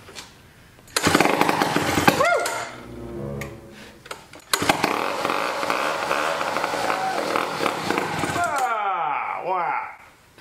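Antique chainsaw with the choke and gas on being started: repeated pull-cord bursts rasp loudly and close, the engine catching briefly and revving unevenly before sputtering out.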